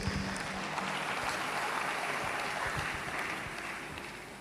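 Congregation applauding at a church service, a dense, steady wash of clapping that holds loud and even for several seconds before easing slightly at the end.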